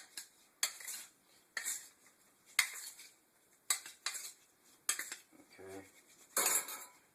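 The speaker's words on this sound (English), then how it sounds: "take a spoon or some type of big utensil, spatula will work. Go in here and mix that seasoning up on the potatoes." Spoon or spatula mixing seasoning into cut potatoes in a metal dish: irregular clinking and scraping strokes, close and fairly sharp, separated by short pauses, with a faint low rumble near the end.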